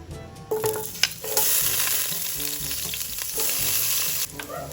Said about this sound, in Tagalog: Dahil mainit na po yung mantika, ay ilalagay ko na po mga kadilag itong luya.